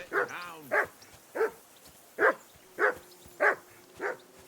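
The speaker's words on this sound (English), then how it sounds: "Do something with that mutt, Henry. It's doing my head in." A dog barks in the medieval video game Kingdom Come: Deliverance 2, giving about seven sharp, evenly spaced barks. It is fairly close and clear, with quiet gaps between the barks.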